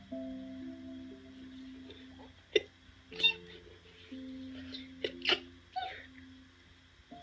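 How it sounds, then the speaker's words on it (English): A few soft sneeze-like bursts, close but not loud, break through a quiet bed of sustained background music, with short pauses between them. "sorry, I had to sneeze"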